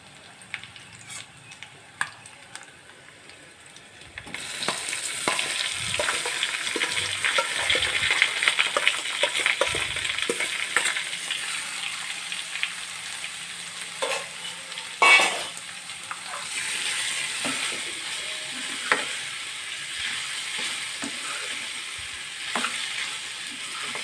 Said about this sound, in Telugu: ఇప్పుడు మనం ముందుగా ఉడకబెట్టి ఉంచుకున్న క్యారెట్ ముక్కలు కూడా వేసుకుందాం